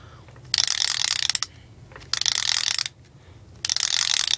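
A K'NEX pullback motor being wound back, giving three loud, fast bursts of ratchet clicking up close, separated by short quiet pauses.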